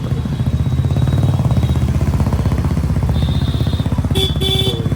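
A motorcycle carrying three riders chugs past in a narrow Prayagraj lane, its engine thumping loud and steady, close by, with faint horn-like tones near the end.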